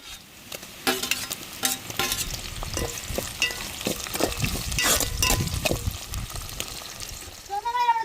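Tomatoes and onions sizzle and fry in a pan while a utensil stirs and scrapes through them, close and continuous with scattered clinks.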